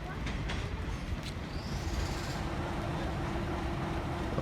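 A Jamaican freight train passes with a continuous loud rumble and rail clatter, a faint squeal of wheels rising briefly, while a voice is faintly heard talking over the noise.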